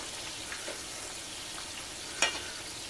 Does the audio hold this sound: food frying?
yes